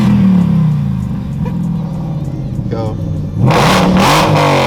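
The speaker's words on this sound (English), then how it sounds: "Rev it." Whipple supercharged Ford Mustang GT tuned on E85, engine idling loudly close by, then blipped into a sharp rev near the end, with a short spoken word over the idle.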